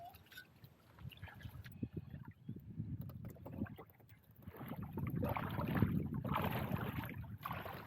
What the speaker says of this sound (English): I'm just motoring out on the electric to a little bit deeper spot here